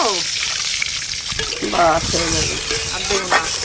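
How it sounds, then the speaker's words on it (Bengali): A little water poured into a pan of fried garlic and green chillies, hissing and bubbling steadily, with a voice talking over the cooking. "এবার জল দিয়ে দেবো অল্প জল দেবো"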